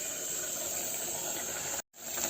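Ginger and ground paste sautéing in a pan, a steady close sizzling hiss that briefly cuts out near the end before resuming.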